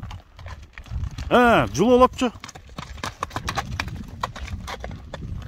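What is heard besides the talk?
horse hooves clip-clopping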